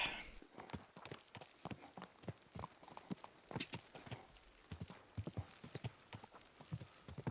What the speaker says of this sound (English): it's just nice to do a bit of horse riding simulator sometimes instead of just fast travelling